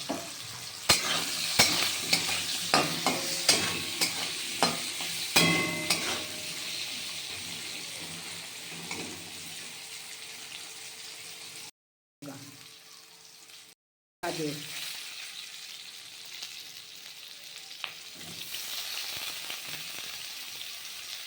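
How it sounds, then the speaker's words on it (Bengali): Potatoes and carrots sizzle in a pan for a bottle gourd greens recipe. A spatula scrapes and knocks in quick strokes early on, then the frying hiss continues steadily, broken by two short silent gaps. "গাজরটাকে দিয়েও একটু নাড়াচাড়া করে দেবো"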